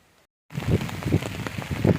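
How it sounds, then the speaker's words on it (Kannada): Rain pours down in a dense, steady patter after a brief moment of silence, loud and close. "ಸುರಿತಾ ಐತೆ ಮಳೆ ಇವಾಗ ಸ್ವಲ್ಪ ಜೋರೇ ಆಯಿತು"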